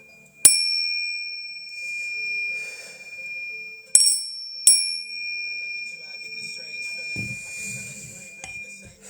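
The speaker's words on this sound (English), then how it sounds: "Sorry, ear warning. Loud bells." Three loud, sharp bell strikes ring out and sustain with a bright metallic tone, separated by quieter moments with faint voices.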